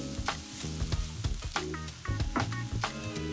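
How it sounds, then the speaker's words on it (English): Onion with a pinch of salt frying in hot coconut oil in a non-stick pan over medium heat, a steady soft crackle with sharper pops, running under louder background music. "Once hot, add the onion with a pinch of salt and fry for 7 to 8 minutes until softened."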